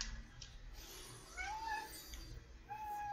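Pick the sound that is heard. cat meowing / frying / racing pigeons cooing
cat meowing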